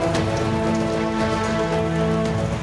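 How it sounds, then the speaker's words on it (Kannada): Steady rain from Cyclone Fengal patters continuously on a surface in Mandya, Karnataka, dense and even throughout, with a faint low hum underneath. "ಮಂಡ್ಯದಲ್ಲೂ ಎಡಬಿಡದೆ ಮಳೆ ಸುರಿತಿದೆ"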